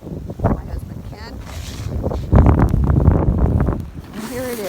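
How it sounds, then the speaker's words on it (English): Strong wind gusts in a blizzard in West Yarmouth, Massachusetts, buffeting roughly against the microphone in swelling bursts, with people talking through the roar. "We got a couple of big gusts coming up. Here comes one right now."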